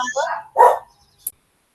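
A small dog gives one short, sharp bark indoors, close by and fairly loud, after a brief stretch of speech, with a faint click following.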